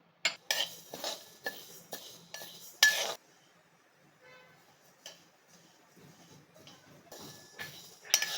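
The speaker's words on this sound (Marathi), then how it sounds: "मूग डाळ आता आपण घालून घ्यायची आहे ही आता आपण भाजून घ्यायची आहे" Moong dal being dry roasted in a pan, heard as scattered clinks and scrapes of a utensil against metal, with loud bursts early on and near the end and quieter gaps between.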